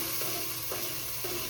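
Tomatoes being tempered in hot oil give a steady, dense sizzle that fills the whole clip, with three soft stirring swishes spaced evenly through it.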